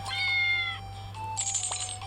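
Cartoon cat meows and cheerful chimes sound in a hotpot restaurant video game, short tonal cries over a steady hum of game music with no talking.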